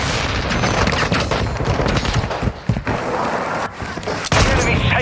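A flash grenade goes off in a first-person shooter match, a sharp burst near the end amid dense, close, overlapping gunfire and explosions that fill the whole stretch.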